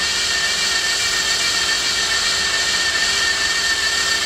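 A power drill with a dull bit runs steadily in a workshop while fitting a Euclid probe on a Voron 2 3D printer, giving a loud, constant whine and grinding hum with no letup.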